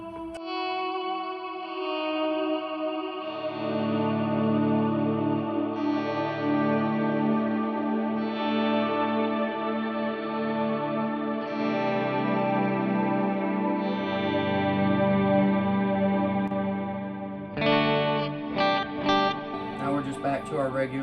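Electric guitar chords through a JET Pedals Revelation Reverb pedal on its swells preset swell in slowly and bloom into a thick, washy reverb, sustained layered tones ringing out, then a brighter strummed section near the end.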